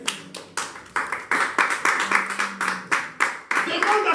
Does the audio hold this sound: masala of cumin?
no